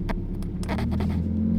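Supercar engine idling with a deep, steady low rumble that climbs slightly in pitch as performance mode raises the idle, close by, with a few faint clicks at the start.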